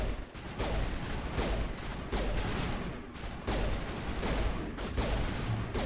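Rapid pistol gunfire in the Mass Effect video game, dense overlapping shots in a continuous barrage with brief lulls, loud and close throughout.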